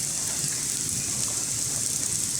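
Steady hiss of rain falling at an excavator work site in the wet season, a dense, even wash of droplets that holds constant throughout, with no machinery or voices standing out.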